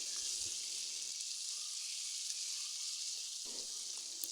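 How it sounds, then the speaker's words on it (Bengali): Fish jhura with lemon leaves fries in a pan, giving a steady, bright hiss of sizzling oil throughout, with brief low stirring bumps near the start and end. "এবার আমি ভালোভাবে নেড়ে চেড়ে ঝোড়াটা করে নেব"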